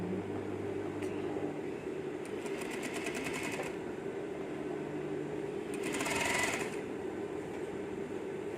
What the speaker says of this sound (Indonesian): Dijahit sampai di ujung, sampai ujung resnya, sampai batas yang 60 cm tadi.